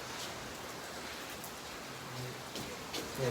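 Steady heavy rain pours down outdoors, a dense continuous hiss with scattered drip and splash detail that swells slightly toward the end.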